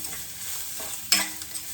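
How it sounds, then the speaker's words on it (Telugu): Chilli powder is stirred into fenugreek leaves cooking in hot oil, a steady sizzle with one sharp scrape of the spoon against the pan partway through. "అది వేసేసి మంచిగా కలిపేద్దాము."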